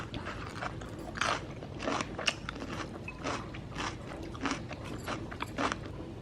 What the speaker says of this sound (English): These peppers are really sweet and crunchy. In fact, let's give you a little ASMR with the peppers.